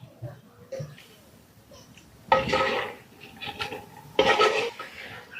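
Food being sautéed and stirred briefly in a pan on a home stove, with metallic scraping and clanking of a spoon against the pan in two louder bursts, under soft background noise.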